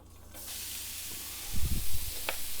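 Riced cauliflower hits shimmering olive oil in a pan and a broad hiss rises, then sputters on with a few louder stirring bumps close by.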